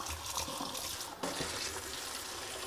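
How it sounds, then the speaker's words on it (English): Room-temperature tap water runs into a gallon container, a steady rushing pour with a brief dip and surge partway through, close and continuous with no talk. "start to fill the gallon container"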